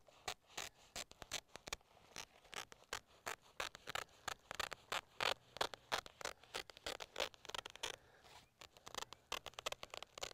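Scissors snip through landscape fabric for raised garden beds in a quick, steady series of close crisp cuts, with short pauses between runs.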